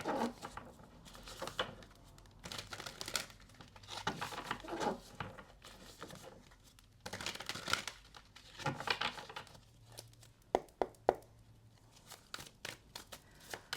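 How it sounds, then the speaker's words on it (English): Tarot cards shuffled by hand in quick bursts, soft riffling and papery crinkling close up, separated by short pauses and faint handling noises, no speech. "We'll give them a quick shuffle"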